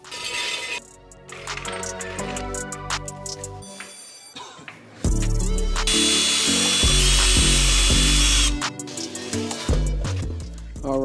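A hand ratchet tightens wheel bolts on a Mercedes-Benz E63 AMG during a wheel spacer fit, giving bursts of rapid clicking close up, then a louder harsh burst near the middle before more clicking.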